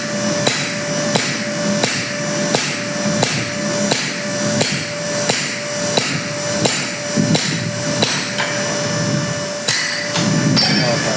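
Ringing hammer blows drive a drift into the eye of a hot forged axe head, struck at an even rhythm about every half second, loud and close, with metallic ring after each strike.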